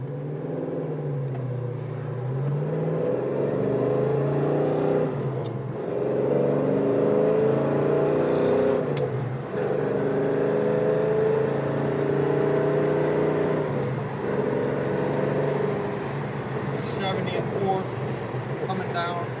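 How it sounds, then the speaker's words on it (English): A 1970 Chevrolet Chevelle accelerates through a couple of gears, its engine rumble rising and dropping with each shift, heard from inside the cabin with road and air noise underneath. "I'm going to run through a couple gears here, maybe get it to 4."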